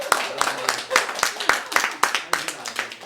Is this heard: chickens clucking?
no